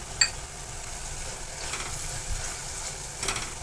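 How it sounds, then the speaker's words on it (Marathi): Homemade masala with chili powder sautéing in oil for Bhogi mixed vegetables, a steady low sizzle and crackle close by with a few brief stirring scrapes, no voices. "तर आपण हे व्यवस्थित तेल सुटूपर्यंत व्यवस्थित परतून घेणार आहे"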